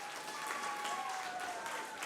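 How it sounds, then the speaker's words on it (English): Steady applause from a crowd at an interschool Minecraft build challenge, even clapping throughout with a faint tone underneath. "One last round of applause for them."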